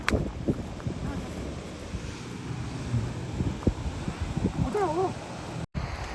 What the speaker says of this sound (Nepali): हावा चल्यो हो